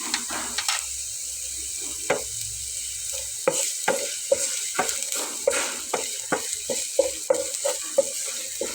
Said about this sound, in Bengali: তো পেঁয়াজটা দেওয়ার পরে আমি এখানে রসুন কুচিটা দিয়ে দিচ্ছি।